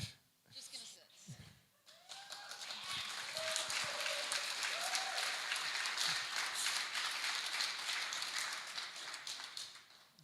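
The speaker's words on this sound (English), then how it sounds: "give yourselves a round of applause for coming out to Thailand" Audience at a SteemFest conference in Bangkok, Thailand breaks into sustained applause that swells and holds steady for several seconds, with scattered voices and brief speech over the clapping near the start.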